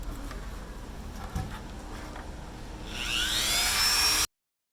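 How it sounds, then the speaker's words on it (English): A rotary tool grinds away plastic on a BMW E53 X5 LCI headlight housing, a high whining drone that rises and grows louder toward the end after a quieter stretch of faint mechanical noise. "The areas we're going to grind away are right here and right here."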